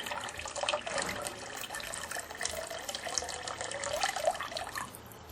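Water poured out of a gold pan holding mining concentrates, a steady splashing trickle that runs for several seconds and trails off at the end, close by with no talking.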